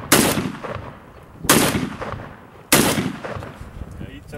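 Three loud, sharp gunshots at a shooting event, spaced about a second and a half apart, each cracking hard and then fading with a trailing echo.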